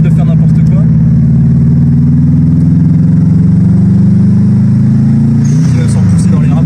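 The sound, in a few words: Subaru WRX engine with double valve sound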